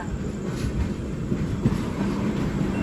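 A saffron-coloured Vande Bharat train on the Visakhapatnam–Secunderabad route rushes past nearby in a steady, loud rumble of wheels on rails, with faint rhythmic clatter and no voices.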